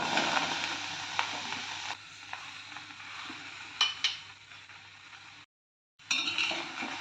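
Indian gooseberries stirred in a heavy pan on the stove for jam, a steady close sizzle with scraping stir strokes and a few sharper clinks, breaking off briefly near the end.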